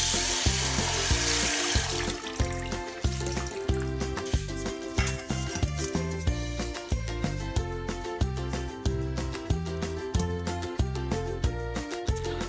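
Soaked rice is drained for samgyetang, Korean chicken soup, starting with a wash of running water and then settling into a rhythmic series of close, repeated knocks and taps with a faint trickle underneath.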